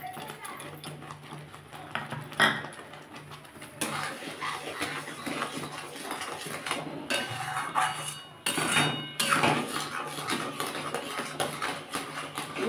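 A ladle scrapes and clatters against a wok as tomato sauce with added sugar is stirred continuously, giving irregular metallic knocks and scraping over a low cooking hiss.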